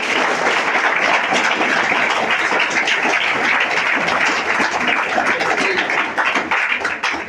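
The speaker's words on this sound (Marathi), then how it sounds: "आपल्या सगळ्या गुरुजनांना आपण एकदा टाळ्या वाजवून त्यांचं मनपूर्वक आभार, अभिनंदन करायचं आहे" Loud, dense clapping from an audience at a Guru Purnima gathering in Kolhapur, held in thanks to the teachers. It runs steady and full before thinning toward the end.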